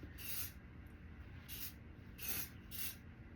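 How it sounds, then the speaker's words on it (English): Hair spray hisses onto hair in four short bursts, close and bright, with brief quiet pauses between them. "I'm kind of getting like to spray my whole hair"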